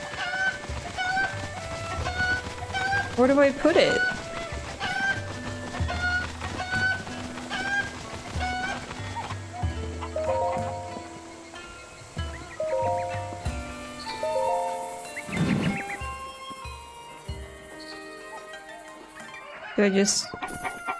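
Chicken-like Cucco birds in The Legend of Zelda: Breath of the Wild cluck and squawk repeatedly, close and lively, alongside game music and a person talking.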